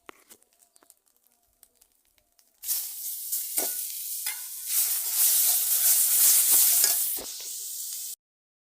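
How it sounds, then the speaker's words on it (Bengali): Tomato puree hits hot oil in a pan during an eggplant dish, setting off a sudden loud burst of sizzling that follows a few quiet taps and holds strong for several seconds before cutting off. "এখন টমেটোর পিউরিটা দিয়ে দিচ্ছি"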